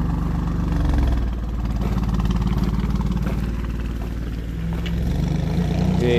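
Race car engine at Summit Point raceway running with one exhaust shut into quiet mode, a deep throbbing burble idling and swelling gently, close and continuous.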